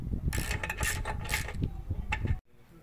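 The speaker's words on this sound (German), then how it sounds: "So, jetzt schrauben wir die Sitzbank fest" Close mechanical ratcheting and clicking while a motorcycle seat on a 125cc bobber is screwed down tight, a steady run of rapid clicks that stops abruptly near the end.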